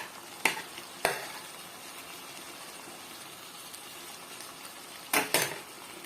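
Ginger-garlic paste sizzles steadily in a chicken curry pan, broken by a few sharp scraping stirs of the spoon, two near the start and a quick pair toward the end.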